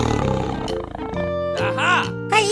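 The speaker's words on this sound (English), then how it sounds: "Tiger." A tiger roars in a 3D animal slide video game, a bright cartoonish roar that swells over upbeat game music and chimes, with a voice talking alongside it.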